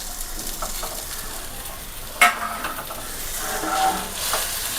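Food being stirred in a small hot pan for egg thoran with shallots, with scraping and a soft sizzle throughout and one sharp metallic clink partway through.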